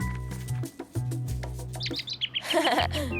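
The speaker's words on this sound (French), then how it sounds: "On dirait qu'il gazouille pour nous." A small bird gives a run of quick, high chirps near the end, close and clear over a low hum and a few soft taps.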